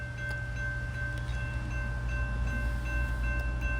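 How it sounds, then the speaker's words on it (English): A CSX freight train pulling into a siding at Slaughters, Kentucky, a steady low rumble with a faint high tonal whine, continuous and moderately loud with no talk. "So here comes our train pulling into the siding here."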